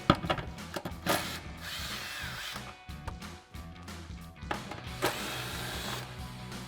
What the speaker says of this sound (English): I'm going to grab a 12 millimeter socket and we're going to start removing these